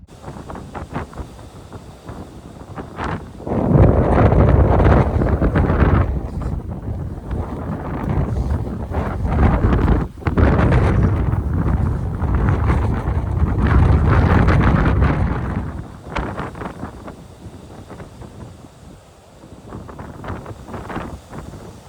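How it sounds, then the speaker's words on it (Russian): Strong gusts of wind buffet the microphone with loud, rumbling roars that rise and fall, easing off toward the end. "Ветер сильнейший"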